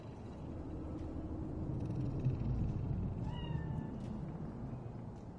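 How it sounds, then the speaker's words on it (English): A cat in Cyberpunk 2077 gives a short meow or two over a dense rumbling city ambience, fairly faint and partly masked by the background hum. "Do you see it? That cat?"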